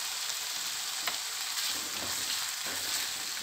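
Steady, close frying hiss from chicken filling cooking with chili sauce and soy sauce, a constant sizzle with faint stirring bumps.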